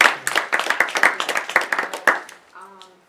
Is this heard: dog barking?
no